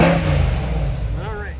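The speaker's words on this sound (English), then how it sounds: "let's open up the door here, turn on the lights, and let's give it a couple revs." A 2024 Chevrolet Corvette 2LT coupe's engine is revved, a loud, close, deep roar whose pitch rises briefly near the end of the short burst.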